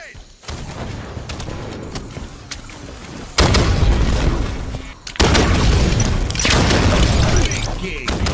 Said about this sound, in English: Enemy grenade.